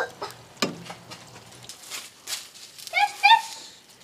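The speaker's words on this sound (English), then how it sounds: "And then let it simmer back down till it thickens back up." Venison bacon sloppy joe sauce simmers and sizzles in a pan over grill coals, with soft stirring scrapes and bubbling in short quiet bursts.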